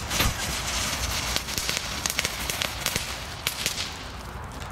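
Crackling fireworks bought from Lidl go off outdoors, a dense, continuous spray of sharp pops and snaps with a few louder cracks standing out, and no talking over it.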